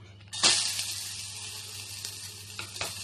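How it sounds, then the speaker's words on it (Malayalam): Onions hit hot oil in a pan with a sudden loud sizzle, easing into a steady frying hiss with a couple of brief stirring scrapes near the end. "സവാളയെ അതുപോലെ ഒന്ന് മൂപ്പിച്ചെടുക്കാം."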